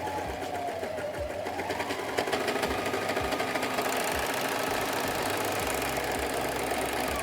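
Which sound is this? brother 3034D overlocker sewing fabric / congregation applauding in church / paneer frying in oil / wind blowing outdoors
brother 3034D overlocker sewing fabric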